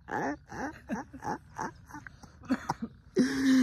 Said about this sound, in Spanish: sin fumar estás tosiendo, sacando todo